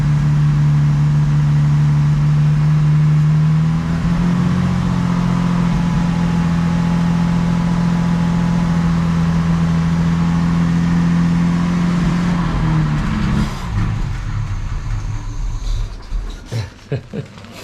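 Jaguar Mk2 3.8 manual classic saloon engine running at a steady idle, a loud, even drone close by that shifts slightly before dropping away near the end.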